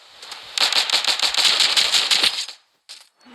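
Rapid automatic gunfire from the Standoff 2 video game rattles in a fast, close burst lasting about two seconds, followed by a brief pause and a couple of short shots.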